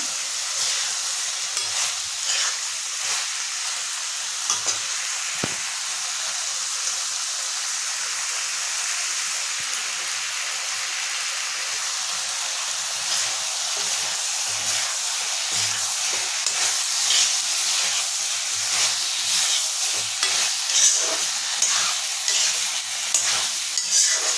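Eggs frying in a pan for egg curry (dim kosha) while being stirred, giving a steady loud sizzle and hiss throughout with occasional soft scraping of the spatula, close up and with no talk.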